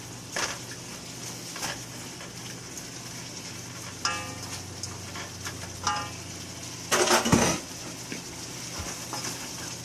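Vegetables stir-fry over high heat on an electric stove, a steady sizzle broken by louder scraping stirs and a burst of clatter near the end.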